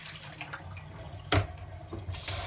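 Tap water runs and splashes softly into a sink while hand-knitted socks are rinsed, a faint steady trickle with a few louder splashes and clunks nearby.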